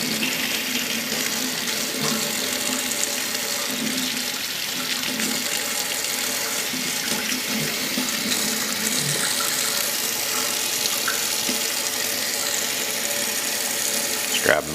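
Warm tap water runs steadily into a sink while a Stardust CE5 clearomizer is cleaned, a continuous hissing splash lasting the whole stretch, with someone speaking faintly at times.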